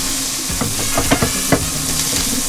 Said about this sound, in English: So now I'll just continue to cook this, stirring every now and then until it's pretty much all the way done